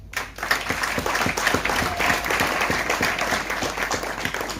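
Audience applause at a graduation ceremony: a dense, steady wash of many hands clapping together, filling the whole moment at even loudness from a sharp start.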